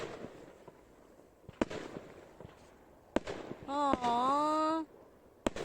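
A fireworks display in Tromso, with sharp distant bangs and crackles scattered through the clip while people talk nearby and one voice gives a long drawn-out exclamation.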